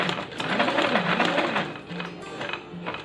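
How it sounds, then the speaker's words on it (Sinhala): A Singer sewing machine stitching embroidery runs in a steady, close mechanical whir with fast rhythmic clatter and slight speed changes as the hoop frame is moved, no voices over it. "මැෂින් එක මහන ගමන් මෙහෙම ෆ්‍රේම් එක මූව් කරන්න."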